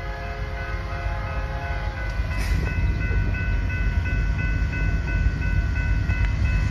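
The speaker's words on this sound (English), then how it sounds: "This got done fueling and now they're taking off eastbound. Now I have a westbound train." A Union Pacific coal freight train rumbles past steadily with a deep, continuous roar and sustained tonal hum, loud and nearby, growing slightly heavier midway.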